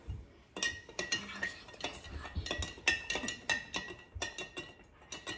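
A spoon stirs an elderberry syrup mixture in a pot, giving a steady run of close metallic clinks and scrapes at an irregular rhythm, fairly quiet, with no talking.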